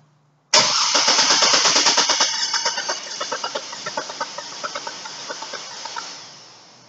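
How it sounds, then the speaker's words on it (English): A car engine with low compression cranks on the starter for about six seconds: a loud, steady run of rhythmic, evenly spaced pulses that starts abruptly and weakens toward the end, with no voices. "Listen to it crank."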